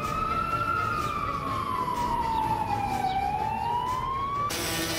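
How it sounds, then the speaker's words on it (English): An ambulance siren wails alone at a steady level, its tone sweeping slowly down and back up over several seconds as the emergency vehicle approaches, with low road rumble underneath and no voices. "Then the ambulance is coming."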